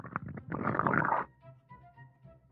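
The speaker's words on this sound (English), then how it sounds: "Ragged breathing and stomach rumbling." A low, gurgling rumble swells for about a second, then fades into quieter, uneven grumbling and faint breathy noises.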